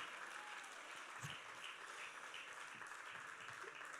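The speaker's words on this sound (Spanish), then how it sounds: "El aplauso más fuerte para ellos, por favor" Audience applauding at a drag festival show in Erandio, a continuous wash of clapping that sounds distant and fairly quiet, with a few scattered louder claps.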